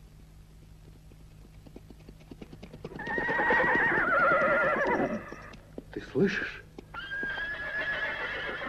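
A horse whinnies loudly in long, wavering calls while hooves clip-clop, with a brief spoken word, in a film adaptation of the Persian epic Shahnameh.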